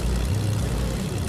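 Steady low propeller-plane engine drone in Fortnite, loud and continuous throughout with no talking.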